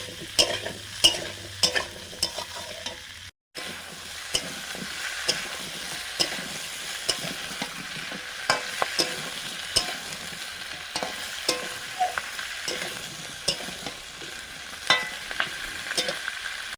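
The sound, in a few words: four kinds of vegetables lightly frying in a pan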